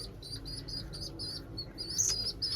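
Young pigeon chicks give thin, high chirps in short repeated bursts, close and fairly faint over a low background rumble.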